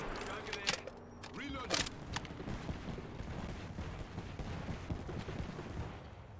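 Video game gunfire crackles in repeated bursts and single shots over a steady layer of in-game noise, with people talking throughout.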